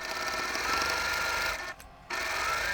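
Sewing machine stitching quilt blocks together, a steady close mechanical whir running continuously, briefly pausing for a fraction of a second before resuming.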